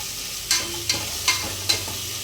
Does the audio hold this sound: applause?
no